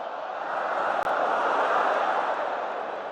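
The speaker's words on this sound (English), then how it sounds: "Crowd are into it." A cricket stadium crowd at an England versus West Indies World Cup match roars in a broad, sustained wash of cheering that holds steady and loud for the whole stretch.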